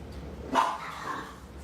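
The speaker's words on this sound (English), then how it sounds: "Dogs out there fighting." Dogs fighting outdoors give one short, distant bark, followed by a fainter yelp, with quiet background and no talk.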